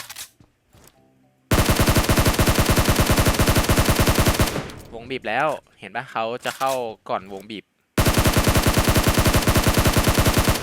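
Rapid bursts of automatic rifle fire from a SCAR-L in the mobile battle royale game PUBG Mobile, loud and sustained over several seconds. A break with voices talking comes before the firing resumes.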